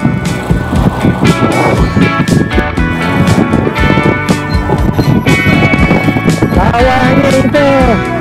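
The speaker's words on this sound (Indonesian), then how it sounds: "Tapi angin memang kuat lah." Strong beach wind roars and buffets the microphone steadily while people ride folding bikes along the coast, with voices talking through the noise.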